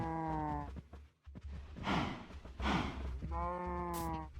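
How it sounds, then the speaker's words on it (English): Cows mooing in a video game: two drawn-out moos, one at the start and one near the end, with breathy huffing sounds between them, close and fairly loud against quiet ambience. "these cows are so noisy"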